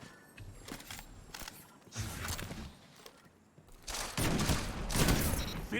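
Sniper rifle body shots in Destiny 2 PvP, a few sharp cracks amid a busy crossfire of other gunfire and mechanical clicks, loud and close, with bursts growing denser toward the end.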